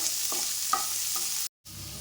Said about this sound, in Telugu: జీడిపప్పు కొద్దిగా వేగిన తర్వాత ఇందులోనే ఆనియన్స్ ఇవి ఆనియన్స్ చిన్నవి రెండు ఇలా ఫైన్గా చాప్ చేసుకొని ఇందులో వేసేసుకుందాం